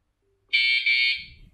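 A loud, high-pitched electronic warning beep from an electric scooter's anti-theft alarm sounds for about half a second, then a short rustle follows.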